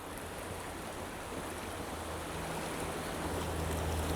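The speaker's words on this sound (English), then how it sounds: "This water's flying." Fast, rough river water rushes steadily during a spring storm in Michigan's Upper Peninsula, a constant broad wash with a low boat or motor hum underneath, fairly faint and continuous.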